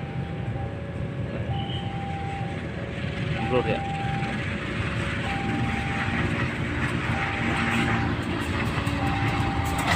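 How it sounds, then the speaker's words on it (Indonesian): A freight train rumbles past at a railway crossing, a broad continuous roar with a steady tone sounding over it, while people talk nearby. "kita tunggu kereta selanjutnya dari arah barat teman-teman kereta barang lagi"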